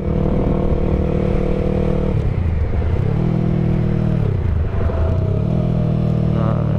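A Yamaha R3 motorcycle being ridden on a hot, clear day, its engine droning loud and steady with rising and falling revs through gear changes, close to the rider and continuous throughout.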